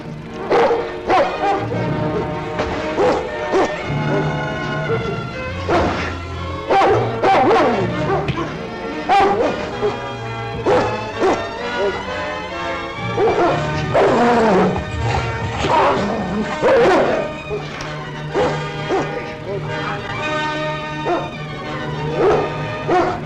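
A dog barks, yips and whimpers repeatedly in a tense outdoor standoff, the loud, busy sounds layered over music and scattered voices.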